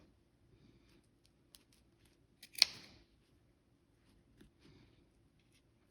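Sharp scissors trim a neck facing seam allowance down to 1/8 inch: one crisp, close snip stands out in a quiet room, with faint rustles of fabric before and after.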